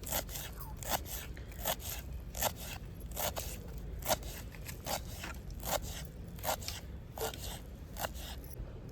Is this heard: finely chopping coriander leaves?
yes